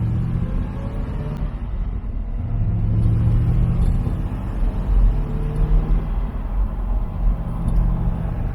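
A 1971 Chevrolet Corvette LT-1 coupe accelerates during a test drive, its engine a steady low rumble swelling gradually in loudness and pitch, heard from inside the cabin without talk.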